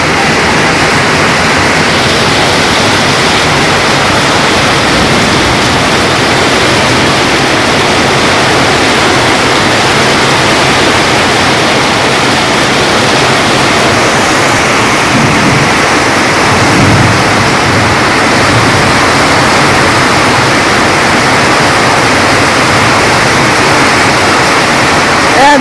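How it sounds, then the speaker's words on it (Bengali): Torrential rain pours down during a Kalbaishakhi storm in a Bangladeshi village, a loud, steady, dense roar of water that continues unbroken for the whole stretch. "বৃষ্টি একবারে মানে তুমুল বেগে বৃষ্টি নামছে"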